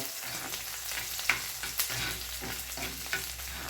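Ginger, garlic and curry leaves fry in hot oil and are stirred, a soft steady sizzle broken by several sharp spoon clicks and scrapes against the pan, heard close with no speech.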